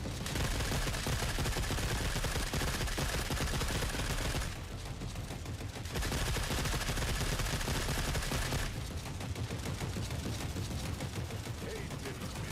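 Dense, continuous gunfire in The Forever Winter, with rapid overlapping shots that ease off briefly around the middle before resuming, loud and sustained throughout.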